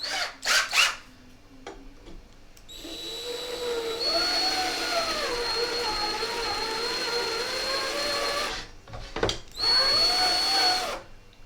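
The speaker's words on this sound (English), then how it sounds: "Nothing like live drilling down there." A power drill whines steadily for several seconds, its pitch wavering under load, with short bursts of clatter and a second drilling run near the end.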